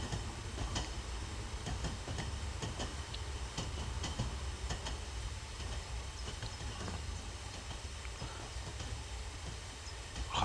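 Train climbing a hill in Train Simulator 2019, with a steady, continuous rumble of the locomotive and rolling wagons, faint clickety-clack of the wheels, and scattered light clanks throughout.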